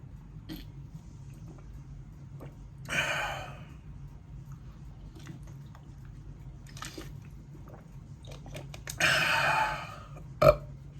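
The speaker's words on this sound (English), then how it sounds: "I'm not editing the burp out" A single close burp breaks an otherwise quiet room, followed later by a breathy exhale and a short click.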